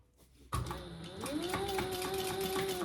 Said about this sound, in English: now we're gonna sew across that at the 3/8" seam allowance